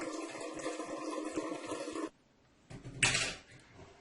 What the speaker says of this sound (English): All you have to do is add some water.